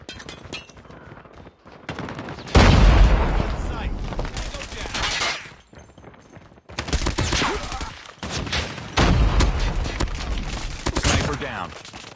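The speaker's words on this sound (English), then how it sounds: "Grenade out!" Call of Duty combat with a grenade blast and bursts of rapid gunfire, loud sustained volleys separated by short lulls, with game voices calling out under the shooting.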